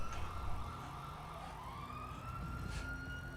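A wailing police car siren from the video game GTA 5 rises and falls steadily over a low rumble of engine and traffic noise, fairly faint in the mix.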